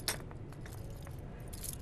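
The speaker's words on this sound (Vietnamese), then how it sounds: "Ê, chìa khóa nè." A bunch of keys jangling as they are handed over: short bright metallic jingles at the start and again near the end, over a steady background rumble, with no speech.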